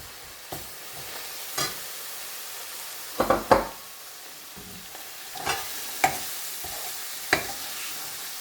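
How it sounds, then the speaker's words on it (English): Coriander and chili powder frying and being stirred in a pan with king prawns, a low steady sizzle broken by sharp scraping and stirring clatters, loudest in a quick pair of strokes midway. "Cook the spices off"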